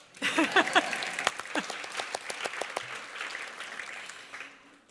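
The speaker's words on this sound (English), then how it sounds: "You can clap." Audience applause at a university alumni awards ceremony as a finalist is announced, starting with a burst of sharp, close claps that thin into a scattered, fading patter over about five seconds, with a voice briefly heard at the start.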